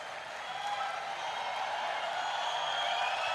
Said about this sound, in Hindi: आपने मेरे स्वागत में जो घनघोर तालियां बजाई हैं